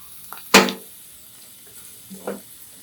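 Red chili added to hot oil for tempering, giving a sharp burst of sizzle and a clatter, then a quieter second sizzle a moment later, close and alone without talk.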